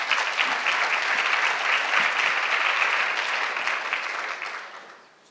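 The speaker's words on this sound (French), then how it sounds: "Je vous invite à les applaudir" An audience applauds guest experts joining a talk, dense steady clapping from many hands that holds for several seconds and then tapers off to quiet.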